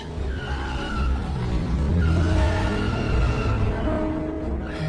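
A car drives through a parking garage and skids, tires squealing in sustained screeches over a steady engine roar that fills the space from start to finish.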